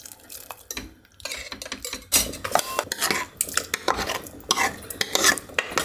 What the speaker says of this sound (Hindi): यहाँ पे छोले के अच्छे जो है फ्राई हो चुके हैं